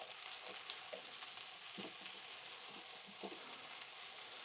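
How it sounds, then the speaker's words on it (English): Pepper and courgette cooking down with onions in a pan, giving a quiet, continuous sizzle with soft crackles and faint stirring noises close by, and nobody speaking. "they will cook down with the onions"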